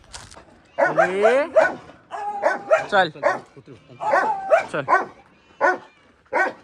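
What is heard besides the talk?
dogs barking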